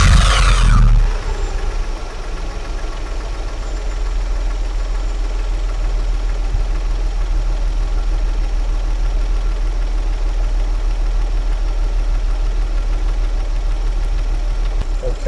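A car engine cranks over briefly during a battery and starter test, then settles into a steady idle that hums on at a constant low rumble.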